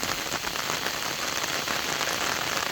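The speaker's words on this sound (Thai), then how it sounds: "ฝนตก แบบไม่รู้ไม่ทันตั้งตัวนะฮะทุกคน" Sudden rain pours onto sunn hemp plants in flower, a dense, steady patter of drops hitting leaves close by, continuous and fairly loud with no voices.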